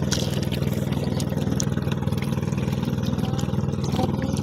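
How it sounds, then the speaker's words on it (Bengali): A small fishing boat's engine runs on the Padma River, a close, steady droning putter with an even pulsing rhythm throughout, with no other sounds breaking through. "ছোট নৌকা"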